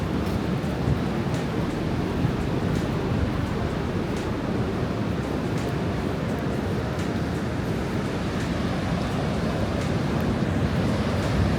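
Waves wash onto a quiet beach in Bali, a constant broad roar of surf mixed with some wind, with no break throughout.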